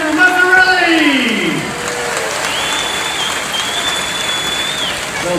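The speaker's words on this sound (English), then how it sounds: "Ladies and gentlemen, put your hands together" Large outdoor audience at an Indiana Jones stunt show applauding, broad steady clapping following an announcer's voice at the start, with a sustained tone running over it.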